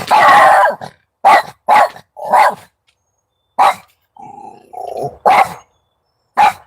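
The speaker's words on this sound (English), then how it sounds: "What's wrong with my dog?" A dog barks in sharp, loud bursts at close range, several in quick succession, with a low growl in between and silence separating the outbursts.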